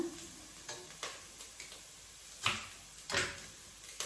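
Sambar powder frying in a pan for bottle gourd sambar, a faint low sizzle with scattered soft ticks and a couple of louder scraping stirs of a spoon against the pan.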